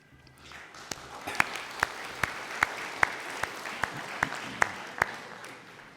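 An audience applauds steadily throughout, a dense wash of clapping punctuated by sharper, louder individual claps at roughly regular intervals, with no voices standing out.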